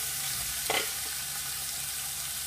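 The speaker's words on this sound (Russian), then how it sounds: "На разогретую сковородку сухую я вылаживаю нарезанную печеньку." Chopped chicken liver sizzling in a dry, preheated frying pan, a steady close hiss with a brief louder spurt as pieces settle.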